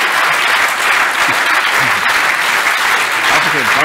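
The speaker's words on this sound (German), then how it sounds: "Ihr Applaus." A lecture audience in Triesen, Liechtenstein claps in a thick, continuous burst of applause, even and loud from start to finish.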